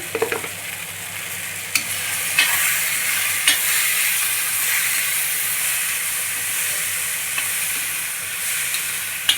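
Chilli powder and turmeric stirred and frying in a pan with green chillies and salt while cooking dal, a steady close sizzling hiss throughout with a few faint scrapes of the spoon.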